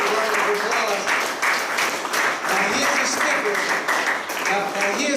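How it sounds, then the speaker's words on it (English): Audience applause at a talk on consciousness and faith, a steady dense wash of many hands clapping for about five seconds, loud and close, with voices mixed in underneath. "Give yourself a round of applause."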